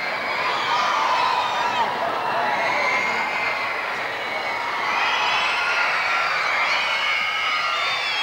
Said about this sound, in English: And Superdrome crowd trying to get the wave going.